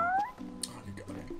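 A cat meows in the video game Final Fantasy XV, a short rising cry at the start followed by game sounds and a voice talking over it.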